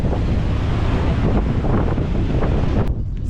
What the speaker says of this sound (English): So as you can hear, it's pretty windy here